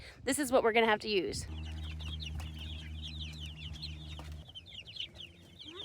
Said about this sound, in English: Do you guys have chickens?